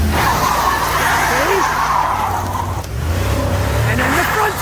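Dodge Durango AWD revved to redline and dropped from neutral into drive, its tires squealing in a loud, sustained screech over engine roar, with wavering pitch and voices talking underneath.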